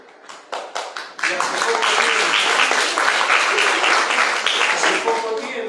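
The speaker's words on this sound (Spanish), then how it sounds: "un aplauso para ellos" A live audience bursts into sustained applause for local police officers at a presentation in Iguazú, starting with a few scattered claps before swelling into dense, loud clapping that holds steady to the end.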